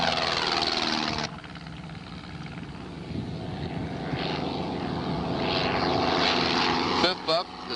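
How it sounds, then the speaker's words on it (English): A Cessna 140 light propeller aircraft at a fly-in: a steady propeller engine drone at moderate distance that swells in the second half, with talk over part of it. "And fourth up is Bernie Golden in his Cessna 140."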